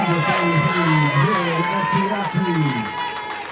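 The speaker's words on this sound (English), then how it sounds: "And the families and crowd react to the call." Families and spectators in the crowd at a 16U premier national championship softball title game react to an umpire's call, with loud overlapping voices and cheering, close and steady, throughout.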